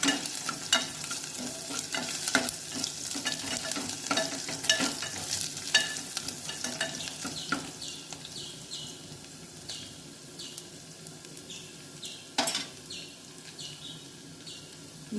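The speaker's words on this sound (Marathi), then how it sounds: "लसूण टाकते क्रश केलेला। लसूण चांगला फ्राय करून घ्यायचा।" Crushed garlic frying in a pan for a drumstick curry, a steady close sizzle with scraping stirs from a spoon, louder at first and settling, with no voices.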